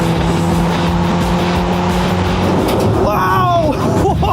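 A modified budget Skoda Yeti is driven hard around a race track. Its engine drones loud and steady from close inside the cabin, then the pitch climbs sharply near the end as it revs harder.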